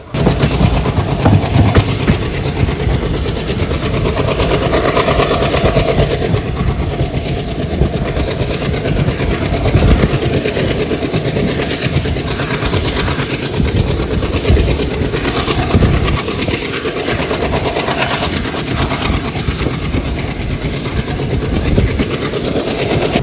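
A diesel locomotive train runs steadily with a loud, continuous rumble and rattling clatter heard from close by, unbroken for the whole stretch, with no voices.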